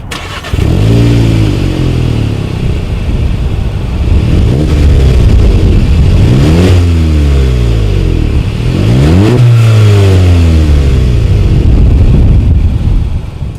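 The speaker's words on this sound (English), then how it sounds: "As always, here is that exhaust clip." A 2019 Volkswagen Golf GTI with dual chrome-tipped exhaust outlets revs hard three times from idle, each rise sweeping up and dropping back into a steady, loud, close burble with no talk.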